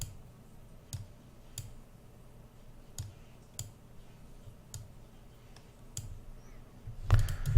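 A computer mouse clicked at a steady pace while working in game-environment editing software, single crisp close clicks about every half second to second, a faster flurry of clicks at the end, no talk.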